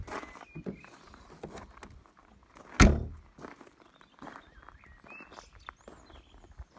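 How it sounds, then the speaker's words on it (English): A Volkswagen XL1's boot lid drops shut with one sharp, close thunk amid quiet footsteps and light shuffling outdoors. "Okay, drop the boot."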